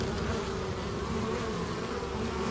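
Honey bees buzz at the hive entrance after their first flight of the season, a close, steady drone of many insects with no gaps.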